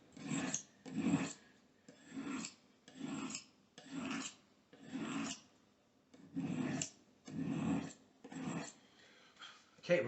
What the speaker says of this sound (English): Put your sharpening stick, your honing rod, put it on a firm surface. Draw it back forth.